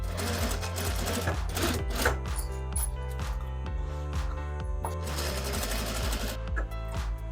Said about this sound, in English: I'm going to top stitch about 1/8 of an inch from the seam, and then again about 1/4 of an inch